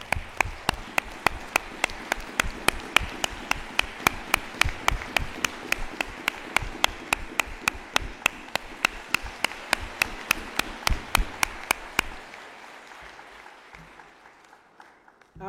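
Congregation clapping in honor of a seated father, a rhythmic, evenly spaced beat of claps that carries for about twelve seconds and then stops, leaving quiet room tone.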